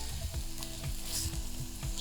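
Rice and curry fry together in a pot for pelau, a continuous close sizzle with scattered stirring scrapes and soft knocks.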